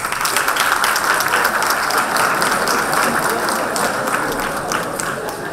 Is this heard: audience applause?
yes